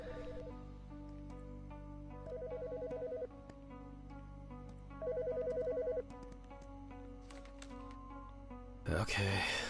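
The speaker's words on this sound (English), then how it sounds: "The fucking phone." A telephone rings in repeated short electronic trills, moderately close, over a steady background hum with a few faint clicks, and a sharp noisy burst comes at the end.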